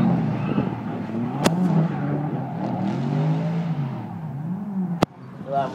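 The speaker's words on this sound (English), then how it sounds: "hear that loud V8 closing in" A loud V8 drift car engine roars and revs at high pitch, rising and falling as the car drifts nearby at a Lydden Hill drifting event, with two sharp clicks cutting through.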